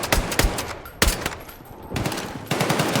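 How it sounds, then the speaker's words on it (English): Gunfire from several guns of different calibers in a first-person shooter video game, with rapid automatic bursts and heavy single shots cracking close and loud across a few seconds. "You've got different guns and different calibers making different noises"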